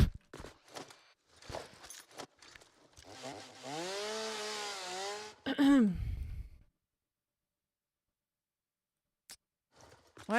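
A chainsaw in Satisfactory revs in a rising and falling whine for a couple of seconds amid scattered footstep-like clicks and short bursts, then cuts out to silence before faint taps return.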